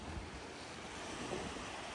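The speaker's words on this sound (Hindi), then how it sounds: "चेक करो पानी की स्पीड" Fast-flowing floodwater rushing past, a constant broadband wash with wind buffeting the microphone, fairly faint and steady throughout with no voices.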